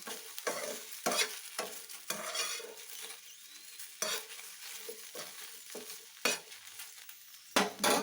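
Spice masala for a sambar stirred and frying in a pan, with repeated sharp scraping strokes of a spoon over a steady soft sizzle, close and alone without any talk.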